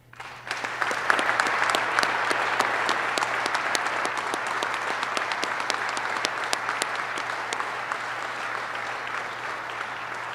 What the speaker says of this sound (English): Please join me in a round of applause to thank Command Sergeant Major Perez